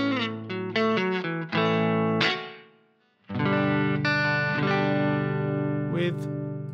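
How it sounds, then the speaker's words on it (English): Piano notes and chords treated with a subtle reverb from the PSP Pianoverb plugin, played in short phrases, a brief gap, then sustained ringing chords with a soft tail; clean, close and loud, no voice. "You've got a really subtle reverb here."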